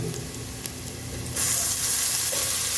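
Ginger garlic paste drops into hot oil with onions in a pan, and the gentle frying jumps to a loud, steady, hissing sizzle that carries on to the end.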